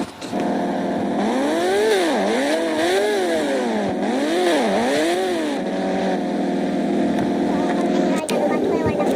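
A motorcycle engine in a 3D Indian bike video game revs up and down in repeated rising and falling sweeps, then settles to a steady drone, loud and close, with a voice talking over it.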